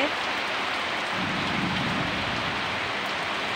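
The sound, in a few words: heavy rain falling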